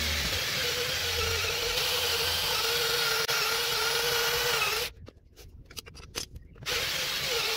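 A steady high-pitched whine of a cordless drill drilling out a rounded brake disc screw head, running continuously, then cutting out into choppy, sputtering bursts on a failing battery before resuming.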